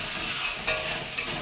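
Masala fries with tomato in a pan for a Bengali fish curry, a steady close sizzle punctuated by two short scraping stirs, with no voices.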